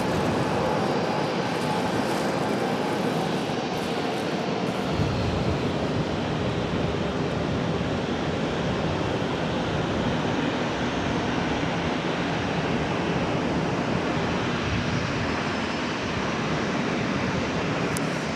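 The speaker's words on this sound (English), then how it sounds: "nice wind breeze blowing through now" A steady wind breeze blowing across an open airport, a broad continuous rush that holds at even loudness throughout with no breaks.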